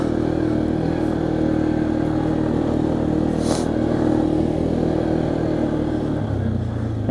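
A 2015 Arctic Cat 500 EFI 4x4 ATV engine drones at full throttle through a muddy top-speed run, a steady, loud, continuous roar held for the whole stretch with no talking.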